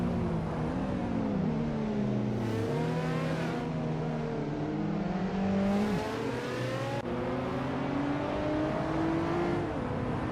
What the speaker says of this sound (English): Bagala Set is racing a 2000 BMW Z8 Tatu